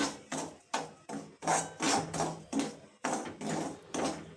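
Fennel seeds are stirred into a dry spice mix for karvand pickle, making a series of short, rhythmic scraping and rattling strokes about twice a second, close and fairly soft.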